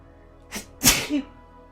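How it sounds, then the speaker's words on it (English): A single sharp human sneeze, a quick inhaled catch followed by a loud, close burst of air, then a short trailing breath, with quiet around it. "I feel like I have to sneeze again."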